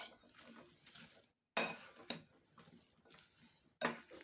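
A spoon stirs fruit chaat and sugar in a bowl. The spoon scrapes and clinks against the bowl in short, irregular bursts, with a few sharper knocks, close and quiet, with no talking.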